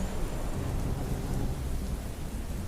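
Steady rain with rolling low thunder from a storm, a continuous dense wash of noise at even loudness throughout, no voices.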